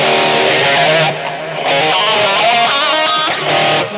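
Electric guitar in an overdriven tone with room reverb from a BOSS eBand JS-10, played as a busy, loud phrase of bent and picked notes with brief gaps and a reverberant tail.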